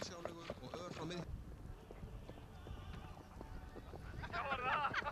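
Hooves of a brown horse at a horse show clip-clop in a quick steady rhythm on firm ground, with a whinny, close and clear under someone talking over a loudspeaker.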